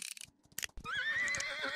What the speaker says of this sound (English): You just killed my horse!